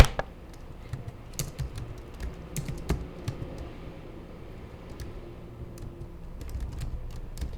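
Exam answer typed on a computer keyboard, a steady run of soft, close key clicks with occasional sharper taps and brief pauses, quiet and alone with no voices.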